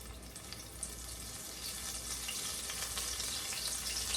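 Chicken pieces frying in hot grease, giving a steady broadband crackling sizzle that builds slightly louder over several seconds, close by with no voices.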